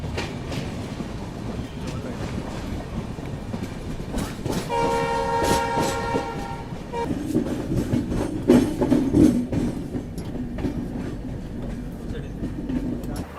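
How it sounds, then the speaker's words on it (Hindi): A train pulls into Dimapur railway station in Nagaland, with loud horn blasts over the rumble and clatter of the wagons rolling along the rails. "दीमापुर रेलवे स्टेशन में अपना अराइवल हो रहा है"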